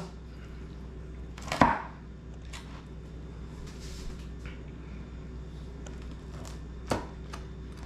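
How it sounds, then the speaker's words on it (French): A knife slicing a pissaladière into small pieces, with one sharp crunching cut standing out, a softer knock a few seconds later and a quiet background hum in between. "je vais la couper en petit pour montrer"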